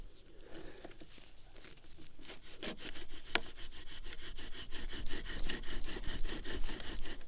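A bow drill spindle spins against a basswood board in a rapid back-and-forth rhythm, a steady scraping rasp of wood on wood that grows slightly louder as it goes on.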